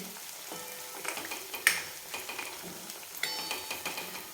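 Fenugreek leaf bhaji crackles and sizzles in oil in a pan, with soft, irregular scraping taps as it is stirred, quiet and close.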